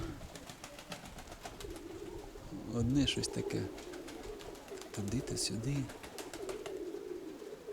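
Soft pigeon cooing in two short bursts amid outdoor ambience, with a person talking quietly over it.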